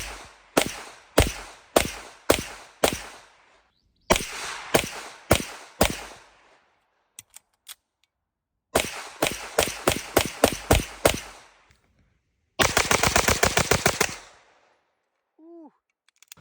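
Springfield Prodigy 5-inch pistol fitted with a compensator firing at a range, in loud close strings of sharp reports: several quick groups of single shots separated by pauses, ending in a rapid burst.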